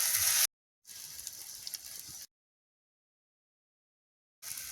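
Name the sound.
chakli frying and sizzling in hot oil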